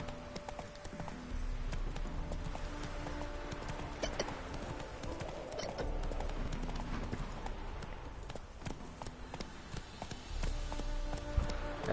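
A horse gallops in Witcher 3, giving a steady rapid clip-clop of hooves at moderate loudness over faint ambient game sound, with a short low voice briefly in the background.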